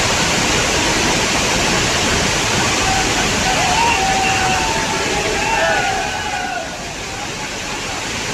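Bhadaiya Kund waterfall in Shivpuri roars as a steady, loud broadband rush of falling water, continuous throughout, easing slightly toward the end, with faint indistinct voices mixed beneath.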